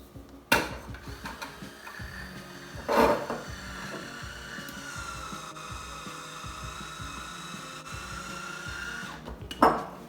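An electric wine opener runs with a steady, whirring motor hum lasting several seconds, framed by a few sharp clicks and handling knocks at the start and end; nobody speaks.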